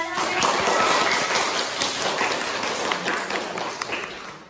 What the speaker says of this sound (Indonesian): Beri tepuk tangan untuk Kamil dan